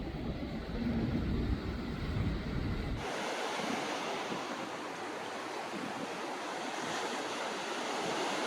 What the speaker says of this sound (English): Please enjoy these last few scenes of one of my favorite beaches in Japan.